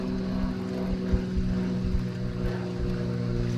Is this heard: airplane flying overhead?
yes